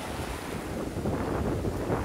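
Strong ocean waves break on a beach in a steady, rough wash of surf, loud and close with heavy wind buffeting the microphone and no voices.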